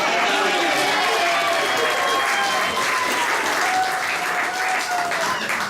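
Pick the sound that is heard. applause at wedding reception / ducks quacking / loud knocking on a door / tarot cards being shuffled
applause at wedding reception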